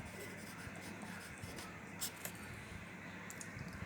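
A pen scratches across a paper map of world grasslands, with short, quiet strokes close by over a low background hum.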